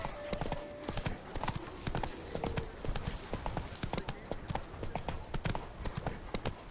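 Hooves clip-clop in a quick, steady trotting rhythm as a horse moves along in The Witcher 3: Wild Hunt, close and continuous, with faint game sounds underneath.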